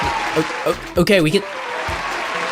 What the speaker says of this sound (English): applause for that one